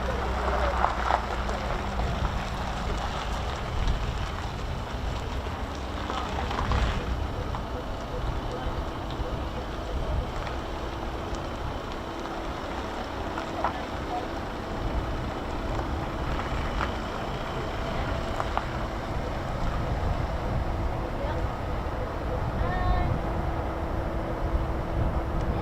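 F-35 fighter jets powered by Pratt & Whitney F135 engines at RAF Lakenheath produce a steady, broad roar from several aircraft, heard from a distance with wind buffeting the microphone throughout.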